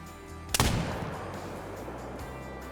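A single loud muzzleloader rifle shot at a mule deer in theHunter: Call of the Wild, a sharp close blast followed by a long rolling echo over quiet outdoor ambience.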